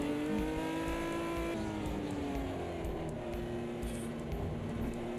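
In the Automobilista 2 sim, a race car with a torquey engine and light rear end drones steadily at Laguna Seca, its tone sliding down and then holding while tyres faintly scrub.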